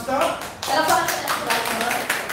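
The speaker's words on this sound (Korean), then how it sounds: "우리 목사님 나오실 때 박수로 환영합시다." An audience applauds in a church to welcome a pastor at a training lecture, a dense burst of clapping with talk mixed through it.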